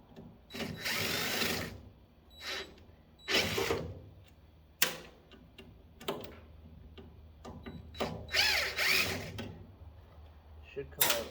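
A power drill backing screws out of a metal scrap piece, several short whirring bursts separated by pauses and clanks, close and moderately loud with someone talking between them.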